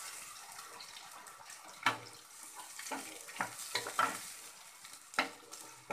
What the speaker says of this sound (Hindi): अब इसमें हम हल्दी डालेंगे जो कि 1/3 चम्मच लिया था, इसको बराबर चला देंगे